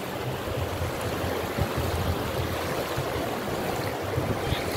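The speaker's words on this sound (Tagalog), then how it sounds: "Ganda ng ilog dito." River water flows steadily along a clear jungle river on an indigenous trail in the Philippines, a continuous rushing wash with no voices over it.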